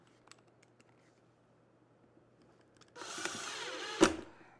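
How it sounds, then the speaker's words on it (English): A power drill drives screws to hold a template in place during a 2024 lid kit install. After a quiet stretch, one short, close whirring burst ends in a sharp peak as the screw seats. "I'm going to run 3 screws in here"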